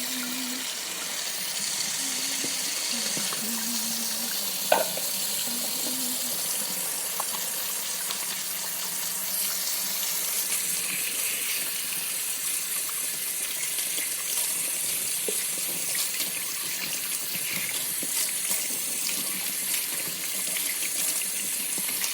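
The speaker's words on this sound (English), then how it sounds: "now I'm just going to wash my hands" Water from a kitchen tap runs steadily while hands are washed after handling raw ground beef, a constant broadband rush with a small clink partway through and no talking.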